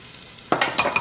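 Three pounds of stew meat or chuck roast browning in a pot, with a quiet start and then a sudden loud sizzle and clatter of stirring in the second half, no voices.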